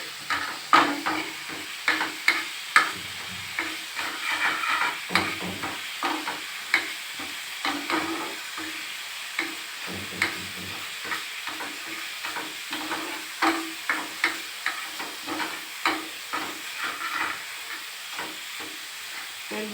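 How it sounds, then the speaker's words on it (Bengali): Spice masala for kofta curry frying gently in a pan with a faint sizzle underneath, while a spoon stirs and scrapes in a steady, rhythmic series of soft taps that lasts throughout. "ভেজে মশলা ভেজে জল দিয়ে"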